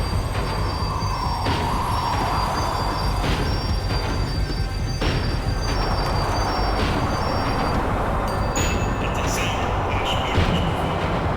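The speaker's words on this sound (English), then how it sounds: "The tram was slowing down, and I'd only just gotten on board." In the video game Max Payne 3, a tram slows down with a continuous rumbling rail drone and hissing brakes, heard close from on board with scattered voices in the background.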